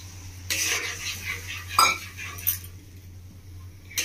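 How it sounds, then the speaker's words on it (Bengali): Spice paste for a Bengali village-style kalbaus fish curry is stirred in a pan, giving a few scraping strokes and light metallic clinks of a spoon against cookware over a low steady hum. "মশলাটাকে দিয়ে আমি হালকা হাতে নেড়ে নেব।"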